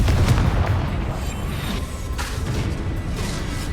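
An explosion spell going off in the video game Hogwarts Legacy, a deep rumbling boom with a burst at the start that trails into a dense, noisy roar lasting several seconds.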